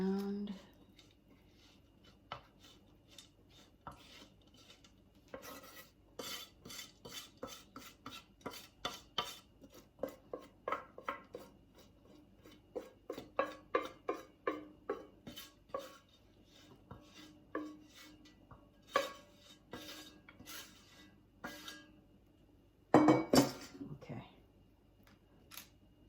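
Chocolate layer being spread in a pan for no-bake chocolate oatmeal bars, with a series of soft scraping and tapping utensil strokes against the pan, close and fairly quiet, and a voice talking intermittently over them.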